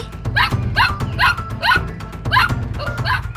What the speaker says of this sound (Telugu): వీడసలు ఎందుకు ఇలా మొరుగుతున్నాడు?